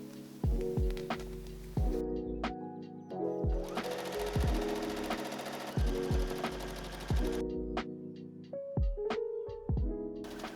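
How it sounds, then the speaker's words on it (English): A sewing machine stitches a satin prom dress bodice to its skirt in several close, loud bursts of rapid mechanical whirring and chattering, separated by short pauses and thumps. "I'm going to put them together and sew right across it"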